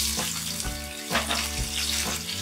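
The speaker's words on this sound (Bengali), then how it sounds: "এবার পেঁয়াজ কুচিটা দিয়ে দিচ্ছি।" Chopped onion tipped into hot oil over fried tempering spices, giving a steady close sizzle with a few soft clinks and stirs, no voices.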